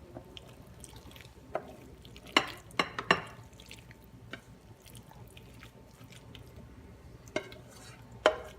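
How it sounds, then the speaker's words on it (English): Cheesy mac and cheese mixture spooned into a casserole dish, soft wet plops and scattered clinks of a utensil against the dish, fairly quiet and intermittent, with no talking. "I'm going to take my mac and cheese mixture here that's all good and cheesy, and I'm going to put it in the casserole dish"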